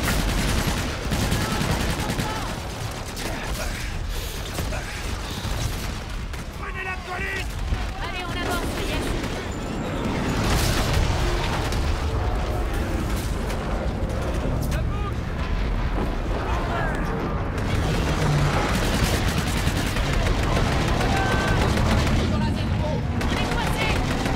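Heavy, continuous gunfire and booming impacts pound throughout a strafing run in Call of Duty Infinite Warfare, loud and close, with explosive surges and radio-style voices talking over the barrage.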